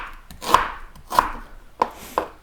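A knife chops onions into chunky pieces for a Bulgarian onion stew, with four distinct, crisp thuds on a cutting board at uneven intervals and no talking.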